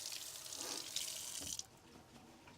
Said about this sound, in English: Rinse them off real quick,